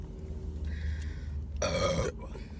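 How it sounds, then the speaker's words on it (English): A single loud, close burp during a family burping challenge, a raspy bellow lasting about half a second over a low background hum. "4 burps."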